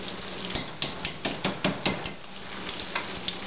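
Tofu and vegetables frying in butter with pepper, salt and garlic in a pan over medium-low heat, a steady close sizzle broken by a run of sharp, regular tapping knocks from a utensil against the pan.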